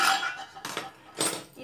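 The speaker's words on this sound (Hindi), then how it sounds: "अब मैं लीड को हटाकर" A metal lid comes off a kadhai in which tomato chutney is being cooked, with clinks and scraping clatters in three close bursts over steady sizzling.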